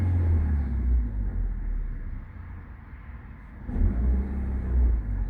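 A Nissan Altima engine with a rough idle, heard close and loud, rumbles unevenly and then swells into a revving surge as the accelerator is pressed.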